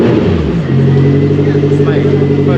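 A 400-horsepower twin-turbo V8 in a Lotus Esprit Encor with a hand-built exhaust, heard as a loud, close, steady rumbling drone with strong low harmonics, under talk.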